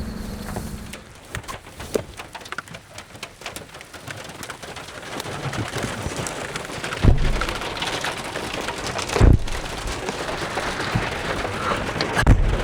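Steady rain pattering on a surface on the prairie, with scattered drips and a few birds calling in the background.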